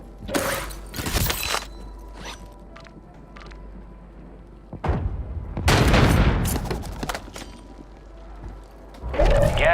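Gunfire in a Call of Duty MW3 battle royale solo match comes in scattered bursts of rapid shots with quieter stretches between. Mechanical game sounds and ambient noise run underneath.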